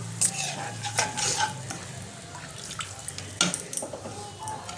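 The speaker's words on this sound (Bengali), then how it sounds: "এবার আমি এর মধ্যে জল দিয়ে দেবো, অল্প করে জল দেবো" Water is added to fried masala in a pan for a rui fish curry, followed by stirring, with close spoon scrapes and clatter over a bubbling, sizzling pan and no voices.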